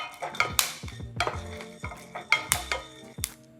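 Nacho ingredients toasting in a pan give off a string of sharp pops and light clatters in uneven bursts, close up and alone.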